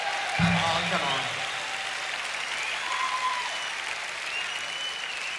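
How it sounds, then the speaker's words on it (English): A concert audience at a 1974 London show bursts into applause for the road team, a brief loud swell of clapping that settles into a steady wash while someone speaks over it. "I'd like all of you to give a big round of applause to our road team"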